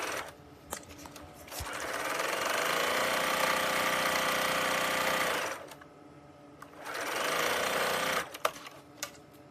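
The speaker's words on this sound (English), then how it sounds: "just sew a straight stitch, locking my stitches at the beginning and the end all the way down" A domestic sewing machine running a straight stitch along a fabric apron strap, whirring steadily in two long runs separated by a short pause, with small clicks at the starts and stops, close and fairly quiet.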